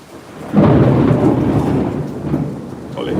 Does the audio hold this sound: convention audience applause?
no